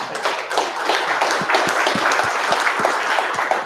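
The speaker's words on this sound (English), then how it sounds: "let's give him a round of applause." A small audience at a startup pitch meeting claps for a local company presenter, a dense, steady round of applause with distinct individual claps close by, lasting the whole stretch.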